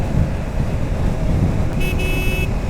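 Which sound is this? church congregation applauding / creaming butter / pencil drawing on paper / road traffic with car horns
road traffic with car horns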